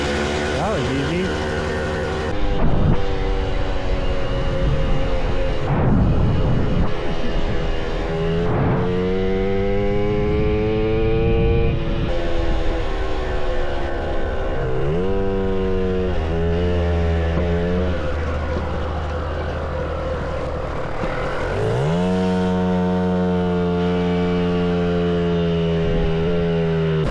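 A Puch Maxi moped engine revs and drones while being ridden at an abandoned driving range, its pitch rising and falling through repeated throttle changes, loud and close throughout.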